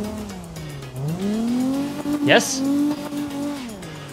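Car engine revving and downshifting with a brief tire squeal in the CarX drifting video game, played on a large homemade steering wheel; a rising and falling engine drone with a sharp screech midway, under a short spoken word.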